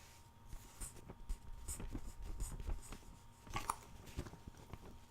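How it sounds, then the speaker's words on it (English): Thin magazine pages from a Parade issue rustle and crinkle softly up close, a run of light crisp scrapes and flutters with a few sharper page flicks, quiet and without speech. "Get a little taste of how that paper sounds."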